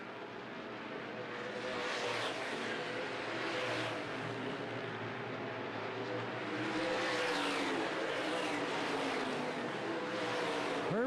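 Top Speed Modifieds race around the Winchester Speedway oval on a Saturday night, engines roaring in a continuous loud drone that swells and fades as cars pass, with no clear speech.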